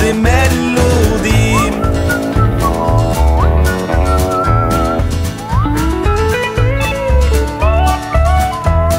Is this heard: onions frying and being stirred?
no